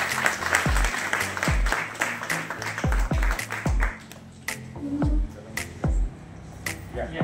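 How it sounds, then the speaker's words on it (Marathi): Loud clapping from an audience at a state-level award ceremony, sharp percussive hand claps and thumps, dense at first then thinning into scattered, separate claps, with faint voices underneath. "त्यांच्यासाठी जोरात टाळ्या होऊन जाऊ"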